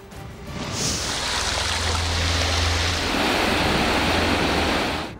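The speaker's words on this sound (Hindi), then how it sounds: "पानी तेजी से जैकबाबाद की तरफ बढ़ने लगा है" Floodwater from a breached canal rushing in Sohbatpur, Pakistan: a loud, continuous broadband roar of churning water that swells after the first second and holds steady, with a low rumble underneath.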